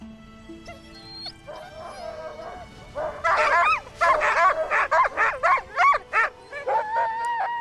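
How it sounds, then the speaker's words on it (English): Several sled dogs yipping, whining and barking excitedly in rapid overlapping bursts, growing busier and louder, fairly close outdoors. "The dogs are barking."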